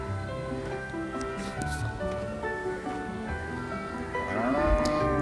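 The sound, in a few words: cow mooing in a video game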